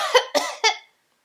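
A sick man coughs three times in quick succession, close and fairly loud, followed by silence.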